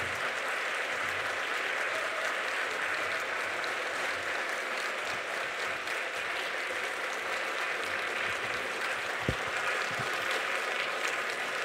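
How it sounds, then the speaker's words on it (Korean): Congregation at a church revival service applauding steadily and loudly to welcome the pastor, a dense sustained clapping from many hands throughout with no voices over it. "큰 박수로 이 자리 모시도록 하겠습니다"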